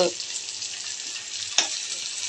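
Urad dal and chana dal roasting in oil for masala upma, a steady close sizzle with one sharp scrape of a spoon through the pan partway in.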